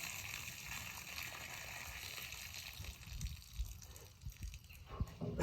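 Dirty water flushing and draining from an old engine's cooling system during a rinse, a steady broadband rush with gurgling surges building toward the end, fairly close.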